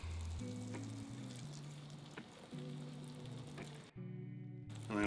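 Butter and oil melting in a pan over medium to medium-high heat, a soft steady sizzle running under background music, with a brief quiet break near the end.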